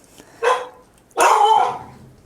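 A dog barks twice nearby, a short bark followed by a longer, louder one, with no talking over it.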